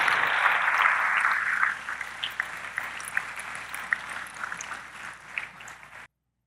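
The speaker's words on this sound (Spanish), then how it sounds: "Denle un aplauso al Rey." A church congregation breaks into applause, a dense wash of clapping at the start that thins into scattered individual claps before fading out to silence.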